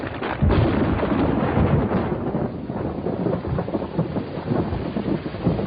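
Heavy rain hisses steadily while a deep roll of thunder rumbles early on, then fades beneath the downpour.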